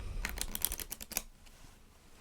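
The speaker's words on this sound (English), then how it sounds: "I'm going to actually shuffle these cards face down into face up, just creating a bit of a mess basically" Playing cards being shuffled face down into face up give a quick burst of crisp riffling clicks and flutters, close and quiet, then fall silent apart from one last soft tap.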